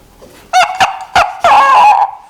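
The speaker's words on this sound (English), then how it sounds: "a rooster." A rooster crows up close and loud, a few sharp clucking bursts leading into a drawn-out, wavering call, with no talk.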